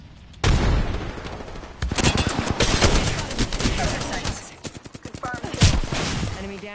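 Dense rapid gunfire rattles through a firefight in the video game Apex Legends, loud, sustained bursts with booming shots, while a voice speaks faintly underneath.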